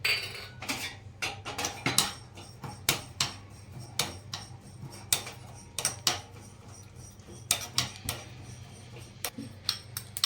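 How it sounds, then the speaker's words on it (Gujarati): Fennel seeds roasting in a pan for an instant raw mango pickle, heard as a string of sharp, irregular ticks and clacks from a spoon against the pan over a faint low hum, with no voices. "હવે આપણે એમાં ને એમાં 2 ચમચી વરિયાળી શેકી લઈશું."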